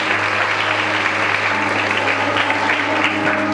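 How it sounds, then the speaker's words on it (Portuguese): Loud, sustained applause from a church congregation during a Portuguese-language service, a thick, steady wash of clapping hands with a low hum underneath and no voices over it. "Vamos dar uma salva de palmas para Jesus."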